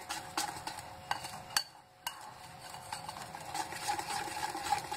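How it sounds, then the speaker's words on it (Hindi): Eggless sponge cake batter being stirred in a bowl, a steady scraping and swishing with occasional clinks of the spoon against the side and a brief pause partway through. "अब ये सारा बैटर हमारा, इसको हम अच्छे से मिक्स कर लेंगे"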